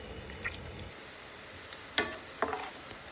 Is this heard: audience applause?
no